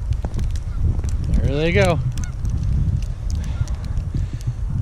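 A flock of geese honks loudly in a short burst of calls over an open field, with a dog and outdoor noise around them. A person speaks briefly.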